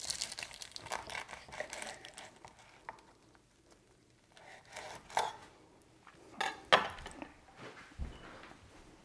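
A knife cuts through a New York strip steak sandwich on ciabatta with caramelized red onions, arugula and chipotle mayo, giving soft crinkly crunches and rustles that end in a few sharper crackles, close and fairly quiet.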